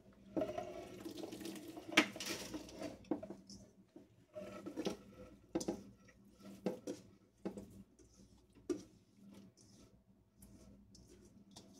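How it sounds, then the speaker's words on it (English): Water is poured into a stock pot for canning corn in a home kitchen, with irregular splashing and clinking bursts of pot and utensil contact, fairly close but quiet overall. "We're going to add our water"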